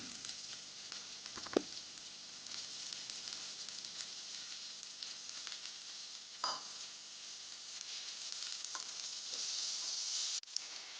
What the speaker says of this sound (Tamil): கருவேப்பிலையும் சேர்த்துட்டு நல்லா வதக்கிக்கோங்க